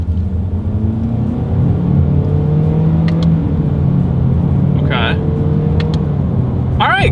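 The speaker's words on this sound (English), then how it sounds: "here's the paddle shifter test" A 2022 Honda HR-V with a CVT accelerating during a paddle shifter test, heard from inside as a steady engine hum and road rumble with gentle pitch rises, under someone talking.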